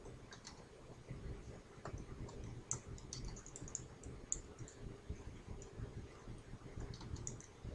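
Someone types on a computer keyboard, a quiet, continuous patter of soft key clicks running throughout over a low background hum, without speech.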